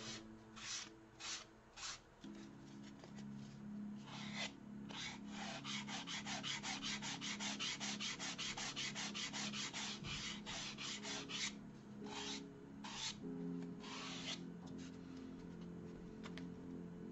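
Sandpaper rubbed steadily by hand over a cosplay ghost trap part, a continuous scratchy rasp in repeated back-and-forth strokes, close and fairly quiet, with no voices.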